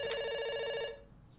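A loud electronic phone ring from Dr. Langeskov, The Tiger, and The Terribly Cursed Emerald trills steadily for almost a second, then stops abruptly, leaving a faint hushed background.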